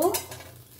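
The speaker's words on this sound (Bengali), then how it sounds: "6 মিনিট মতো আমি এরকমভাবে সিম করে নাড়াচাড়া করে ভেজে নিচ্ছি।" Eggplant slices are stirred in a pan over low heat: one quick scrape of a utensil against the pan, followed by a faint, soft sizzle fading out.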